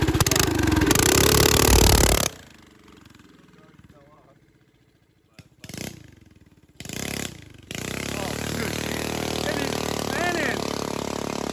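A Coleman BT200X mini bike engine revs loudly up close, drops to a lower idle-like stretch with brief surges, then climbs back into a sustained high, buzzing run.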